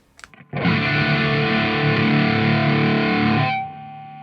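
An electric guitar through stacked distortion pedals rings out one sustained, heavily saturated chord for about three seconds after a few short muted plucks, then cuts off abruptly, loud and alone.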